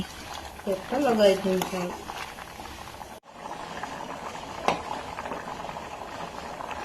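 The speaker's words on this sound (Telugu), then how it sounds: "మాకు పవర్ లూమ్స్ ఉన్నాయి, వాటి సౌండ్ వస్తూ ఉంటుంది" Power looms running nearby produce a steady mechanical clatter and hum in the background, continuing under a voice speaking in a home kitchen.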